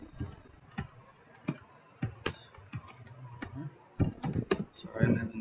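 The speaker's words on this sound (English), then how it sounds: "Sorry, I'm having trouble typing today." Typing on a computer keyboard during a financial training session, heard as irregular clusters of sharp, close clicks and taps, with a voice speaking in the background.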